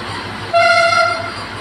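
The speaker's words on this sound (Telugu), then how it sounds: "ఇదిగోండి కుదిరేస్తుంది ట్రైను." A train horn sounds once in a short, loud toot over a low rhythmic rumble as the train starts to move.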